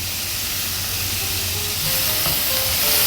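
Minced meat and garlic fry in a hot pan with a steady, close sizzle and hiss that grows slightly louder toward the end, with a few faint stirring clinks and no voices.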